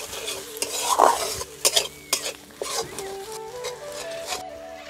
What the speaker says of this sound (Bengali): এবার ভালো করে মশলাটা কষতে থাকবো